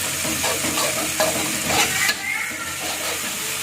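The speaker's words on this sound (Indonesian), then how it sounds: "Kita aduk rata sampai bau mentah dari cabenya ini hilang ya." Chili paste for tuna balado with torch ginger sizzles and fries in a pan while a spoon stirs and scrapes through it, a steady close crackle with brief louder scrapes.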